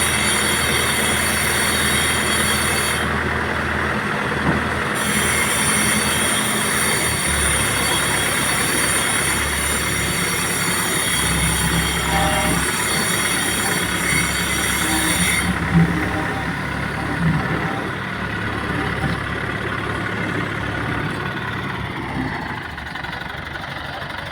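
A train passes near Kolanur village, a loud, steady rumble and clatter lasting throughout with a sustained bright high-pitched hiss that drops away near the end.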